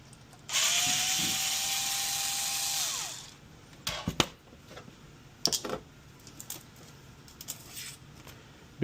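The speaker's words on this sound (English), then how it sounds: "Now to start the repair, what you want to do, you want to remove the back screw." A power screwdriver whirs steadily for a few seconds while backing out the rear screw of a KitchenAid stand mixer, then winds down, followed by scattered clicks and light clatter of handling the appliance.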